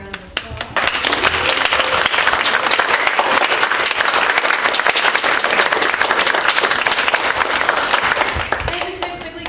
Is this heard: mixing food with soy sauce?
no